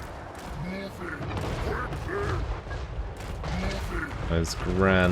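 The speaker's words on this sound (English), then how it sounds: "Those grand cannons coming in hot." Repeated booming cannon blasts and explosive impacts from Total War: Warhammer 3, loud and overlapping, with a few short bursts of speech mixed in.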